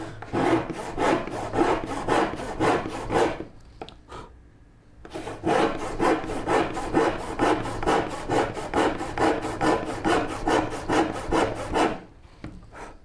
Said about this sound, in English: if I want to like rip a board, I definitely need to use that saw